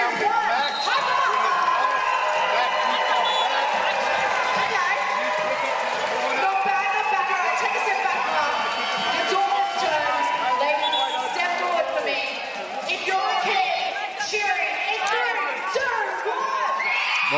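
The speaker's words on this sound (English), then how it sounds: "You're going to hype up the crowd." A women's basketball finals crowd of adults and parents cheers and whoops loudly and continuously, a dense roar of voices filling the arena.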